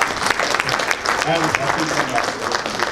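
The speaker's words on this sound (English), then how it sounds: "Okay, round of applause for these people." An audience claps during a talk on brain training, moderately loud and slightly uneven applause with a voice briefly speaking partway through.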